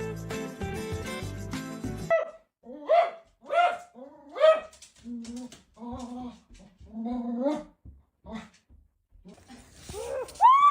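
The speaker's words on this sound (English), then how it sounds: "Cute dog." A dog gives a run of short, close barks, several in quick succession, followed by softer voiced yips and a final sharper bark, with no talk over them.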